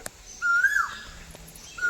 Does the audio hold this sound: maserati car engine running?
no